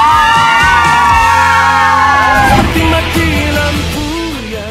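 A crowd at a folk festival show in Tangerang yells and whoops loudly together, a sustained chorus of raised voices that peaks and then slowly fades.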